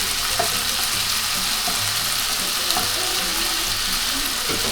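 Garlic frying in a pan for pesto, a steady dense sizzle of hot oil running close and loud throughout, with faint clinks of stirring and no talk.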